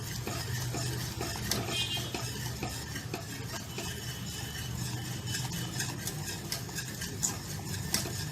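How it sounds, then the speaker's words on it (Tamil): A spoon stirs a thickening custard powder mixture in a pan, giving a steady soft scraping and swishing with frequent light clinks against the metal and a faint simmering underneath, with no voices. "நல்ல திக் கன்சிஸ்டன்ஸ் வர வர வரைக்கும் நம்ம வந்து கிளறிட்டே இருக்கலாம்"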